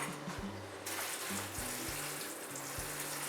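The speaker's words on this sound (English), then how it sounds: "I have a clean colander, and I'm just going to go ahead and wash them now." Steady rush of tap water pouring over strawberries in a colander at a kitchen sink, a continuous hiss with faint low clunks and rattles underneath, heard alone.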